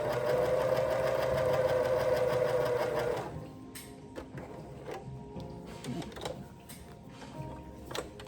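A sewing machine stitches through two layers of fabric for a worship flag, running in a steady loud whir for about three seconds and then stopping, after which only faint handling noises remain.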